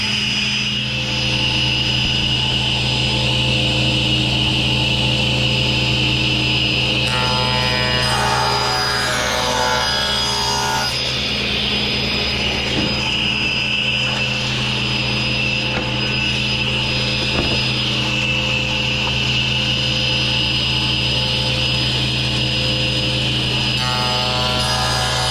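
Panel saw with its scoring blade spinning steadily, cutting wood stock to length in a workshop, a loud continuous whine and hum with a rougher stretch of cutting noise in the middle, no one talking.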